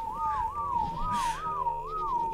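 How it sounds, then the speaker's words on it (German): Repeated melodic whistle in the video game ARK: Aberration, five rising-and-falling wavering phrases in a steady rhythm, clear and prominent over a soft game ambience. "Oh Gott, es wird hier gepfiffen."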